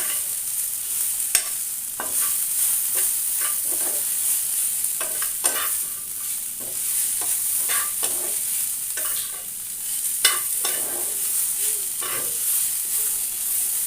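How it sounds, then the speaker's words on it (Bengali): Vegetable bhaji for a Bengali banana recipe sizzles steadily in a pan while being stirred, with a constant frying hiss broken by frequent sharp scraping strokes of the spoon, close and fairly loud, no voices. "এদিকে ভাজিটা নেড়ে ছেড়ে দেবে তো দেখুন অনেকটা হয়ে আসছে ভাজিটা"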